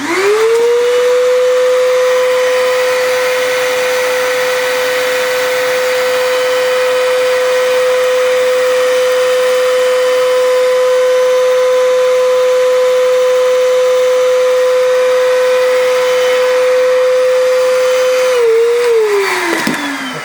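A vacuum cleaner whirs steadily at close range over an HO model railway layout during track ballasting, a constant high drone, then winds down in the final second.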